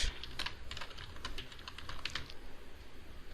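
Keywords are typed on a computer keyboard, a quick irregular run of close key clicks in clustered bursts, fairly quiet against a low background hum.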